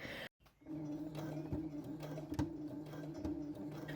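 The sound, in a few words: sewing machine stitching patch pocket on stretch fabric with twin needles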